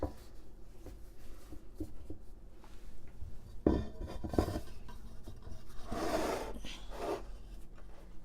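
A bench scraper working King Cake dough in a pan, soft scraping and rubbing strokes with light taps of metal, faint and close, with a louder scrape near the end.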